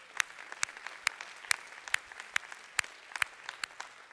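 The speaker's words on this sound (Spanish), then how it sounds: "¿Quién le da un aplauso al Señor?" A congregation applauds during a church worship service, sparse individual claps ringing out at a steady, moderate pace rather than a dense ovation, fairly quiet and somewhat distant.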